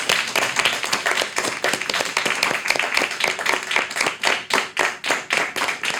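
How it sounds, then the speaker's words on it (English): A live panel-show audience applauds its panel of guests at the close of a discussion on masculinity, sexuality and MeToo: dense, steady clapping from many hands fills the room for several seconds without letting up. "Let's give them a final round of applause."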